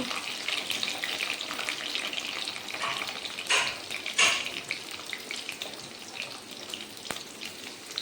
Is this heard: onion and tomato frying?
yes